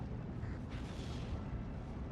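Artillery round exploding in the Steel Division 2 war game, a dull, rumbling low boom that swells and rolls steadily for a couple of seconds at moderate loudness, with no distinct sharp onset.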